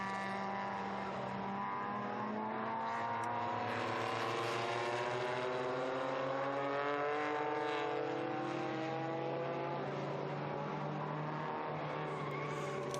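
Historic Alfa Romeo and Cortina race cars battle at the Estoril Classics, engines droning steadily at a distance as they rise and fall in pitch with gear changes, a continuous faint motorsport roar with no talk.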